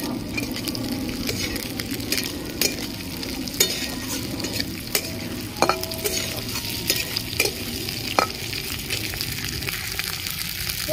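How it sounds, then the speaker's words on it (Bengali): Chopped winter vegetables fry in a pan for a spicy semolina breakfast dish, a steady close sizzle broken by repeated clinks and scrapes of a spatula stirring them. "ভালো করে একটু ভেজে নেব।"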